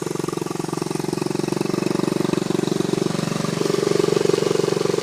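A 1977 Honda CT90 vintage dirt bike engine runs at a steady, rapid, loud putter close by, building slightly louder toward the end.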